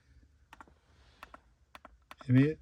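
A few soft, sharp clicks from a Honda Accord interior light button, spaced apart over low background noise, followed by a short louder burst at the end.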